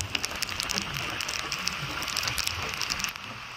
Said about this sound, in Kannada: ಸ್ವಲ್ಪ ಮಳೆ ಬರ್ತಾ ಇದೆ, ಇಲ್ಲಿರಲಿಲ್ಲ ಮಳೆ.